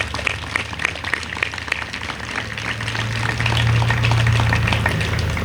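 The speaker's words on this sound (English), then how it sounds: "a round of applause, please" An audience applauds law enforcement, EMS and other first responders at an overdose awareness day gathering in Mercer County, scattered clapping that builds louder over a low steady hum.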